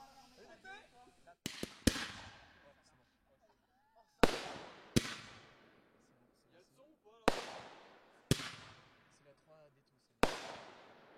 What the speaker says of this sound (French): maintenant je peux enfin vous montrer le feu d'artifice. Là c'est lancé, j'espère que ça va partir.